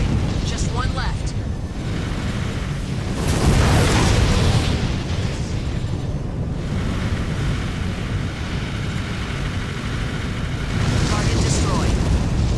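Heavy booming explosion of an arms fort cannon in Armored Core: For Answer, a loud sustained rumble with bursts and a big surge around the middle, continuing as rolling blasts and wind-like roar.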